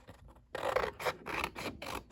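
Scissors make a rough cut through patterned paper for a Christmas cardstock mini album, a quiet start followed by several loud, close, rasping snips in a steady rhythm with no voice.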